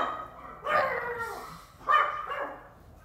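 A neighbour's male dog barks twice outdoors in a sunny garden, two fairly close, moderately loud barks about a second apart with quiet pauses between, and no talking.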